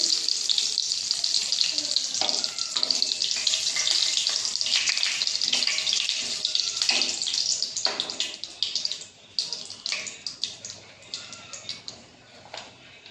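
Cardamom pods and bay leaves fry in fish oil, a close, bright, continuous sizzle with crackling bursts that gradually settles and thins toward the end.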